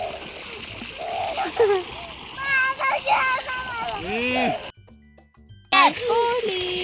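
Water splashing in outdoor stream or pool water as a child swims, bursts of splashing mixed with children's and adults' voices calling out, fairly close and lively, with a brief quiet gap near the end.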